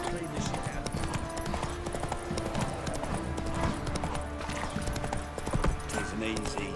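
Horse hooves clip-clop steadily in The Witcher 3: Wild Hunt, Hearts of Stone, in a continuous rhythmic trot that runs through the whole stretch under dense game ambience.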